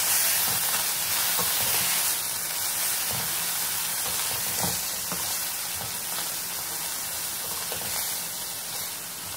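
Spiced corn sizzles and fries in a hot pan while being stirred, a continuous close hiss with soft scraping strokes of the spoon throughout.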